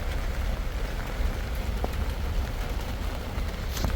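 Steady rain falling during an evening sea fishing session for conger eels, a dense, even patter of drops hitting nearby surfaces with a few sharper taps, close and constant, no voices.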